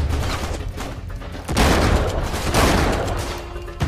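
Blind-fire gunfire in the video game Uncharted 3, a dense burst of rapid shots that swells louder midway and keeps rattling steadily to the end, close and loud with no talk over it.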